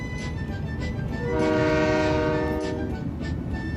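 A train rolling along a railway, steady rumbling and clatter of the wagons throughout, with a sustained horn-like tone swelling in the middle before fading.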